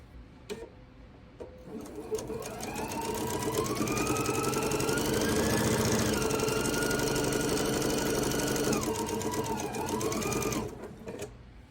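A sewing machine stitches half square triangle quilt pieces in one sustained run, its motor whirring up to a steady loud drone for several seconds and then winding down, with no voices.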